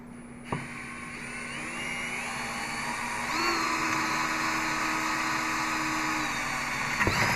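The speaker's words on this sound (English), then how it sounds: "this one here is going to have to drill through both of them, that one and this bracket with the washer right in the middle" A power drill bores through a mounting bracket with a washer on a 2018 Jeep JKU, one steady whining run lasting several seconds after a short tap, close and loud.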